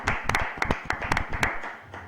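A church congregation applauds in a short burst of uneven, sharp handclaps, fairly close and fading out after about two seconds.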